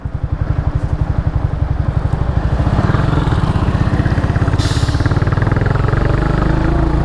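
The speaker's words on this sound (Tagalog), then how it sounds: "May motor lang." A motorcycle engine putters nearby with a fast, steady, loud throbbing beat that stays close throughout, as if passing slowly on a roadside.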